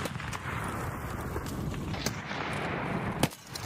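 An AK grenade launcher round explodes in a shooter video game, set against a dense wash of continuous battle noise with a few sharp blasts and a strong burst near the end.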